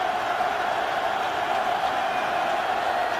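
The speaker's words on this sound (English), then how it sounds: "This crowd noise is an issue." Football stadium crowd noise at an NFL game between Tampa Bay and Baltimore in 2010, a dense, constant roar of many voices filling the space, loud and unbroken.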